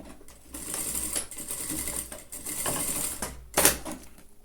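A sewing machine stitches a short finishing seam across the end tab of a zipper on a handmade bag, running in close, rapid mechanical bursts with brief pauses and a sharp click near the end.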